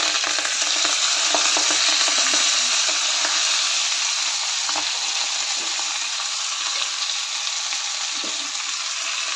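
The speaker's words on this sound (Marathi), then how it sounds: "मेथीची भाजी घालून चांगलं परतून घ्यायचं आहे।" Fenugreek leaves sautéing in a pan with crushed garlic, green chilli, cumin and ground peanuts, giving a steady close crackling sizzle with scraping stirs throughout and no voices.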